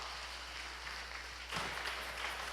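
Audience applause at a concert, a soft scatter of clapping that suddenly swells louder halfway through as the crowd welcomes a singer onto the stage.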